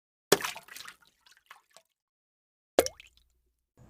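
Two sharp splashes as someone gets into a cold pond in an animated Barbie doll story, each a brief wet plop followed by small dripping spatters, with quiet gaps between them and no voices.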